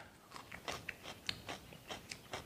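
Soft, close biting and chewing sounds come from someone tasting cooked pomfret fish, a series of faint crunchy chews in an irregular rhythm with no talking.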